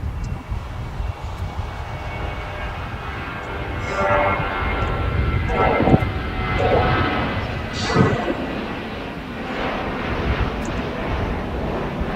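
An Alaska Airlines jet holds on the taxiway at the back end of LAX, its engines giving a steady, broad roar with a few rising swells, set in busy airport ambience.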